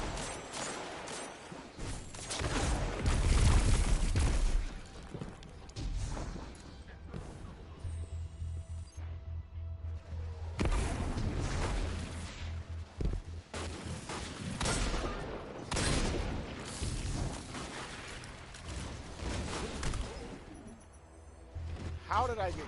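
Sniper rifles fire during a Cabal battle in the video game Destiny, with sharp cracks and crashing bursts scattered through loud game action, and a voice talking over parts of it.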